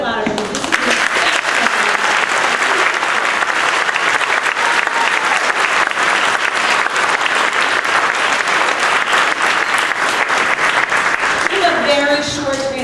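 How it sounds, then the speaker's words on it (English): Steady, dense applause from an audience at an elementary school spring band concert, sustained and fairly loud for the whole stretch, with a few voices calling out near the end. "So you guys can clap a little bit louder."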